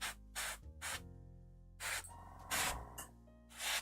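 An airbrush or spray can sprays paint onto Warhammer miniatures at a desk in repeated short hissing bursts close by, alone and without talking.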